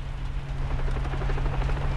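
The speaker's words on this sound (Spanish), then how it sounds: "Un helicóptero," Helicopter in the game Far Cry 3, a dense steady rotor throb and engine rumble, loud and continuous, with no speech.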